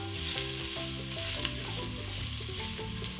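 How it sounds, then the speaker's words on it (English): Diced onions fry in about two tablespoons of vegetable oil in a pan, giving a constant close sizzle with faint stirring and no talk. "Straight on, we'll add our diced onions onto the pan."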